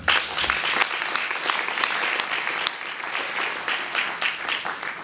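Audience at a church tribute gathering for an evangelist's funeral, applauding: dense, sustained clapping from a large crowd at steady loudness, with faint voices mixed in.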